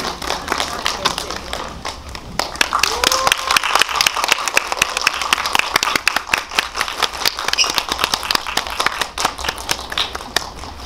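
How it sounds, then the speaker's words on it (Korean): An audience at a film screening Q&A claps steadily and densely throughout, a loud sustained applause filling the room, with a voice speaking over it. "큰 박수 부탁드립니다."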